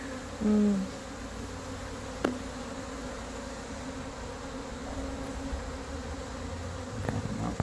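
Honey bees hum in a steady, low drone over a hive frame, with one brief louder buzz as a bee passes close to the microphone early on.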